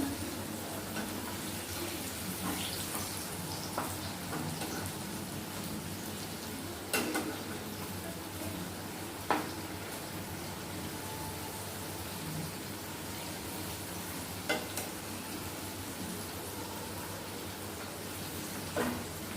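Masala-spiced pumpkin fries in a pan in a village kitchen, giving a steady soft sizzle with occasional sharp scrapes and clicks of stirring spaced several seconds apart, fairly quiet and with no voices.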